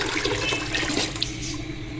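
A glass of water is poured into a yogurt-based kadhi mixture in a cooker, making a continuous rushing, gurgling splash that fills the whole stretch, fairly loud and close.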